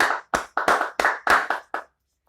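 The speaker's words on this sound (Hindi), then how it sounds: "सब लोगों ने जोर जोर से महागिरी के लिए तालियां बजाई।" A few people clapping together in a run of about seven sharp, close claps at an even, brisk rhythm, then stopping into silence.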